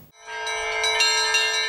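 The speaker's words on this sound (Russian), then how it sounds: "храм и колокольня, на которой уже звонят колокола" Church bells peal from the bell tower of a newly built church, a bright, sustained metallic ringing that swells in and keeps sounding loud and close, with overlapping strikes and no talk.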